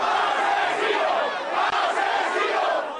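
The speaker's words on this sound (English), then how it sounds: "Murderer, murderer, the crowd shouted." An angry crowd shouts in a town hit by deadly flooding, many voices massed into a loud continuous roar with rhythmic swells of chanting.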